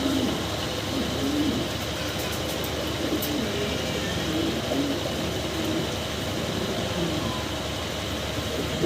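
Fancy Andalusian pigeons give low, murmuring coos against a constant background hum, with a few faint, thin high clicks.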